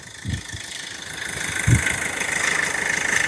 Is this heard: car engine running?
yes